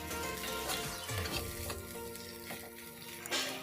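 Spiced potato filling with coriander for aloo chop is stirred as it fries in a pan. A soft, continuous sizzle carries faint scraping strokes, with one slightly louder scrape near the end.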